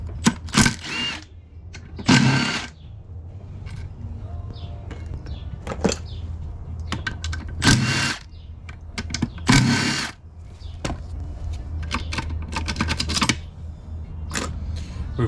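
Tools work loose the 10mm bolts holding the reverse gear mechanism of a K-Series transmission: a series of loud, close ratcheting and clattering bursts separated by quieter pauses, with small metallic clinks between them.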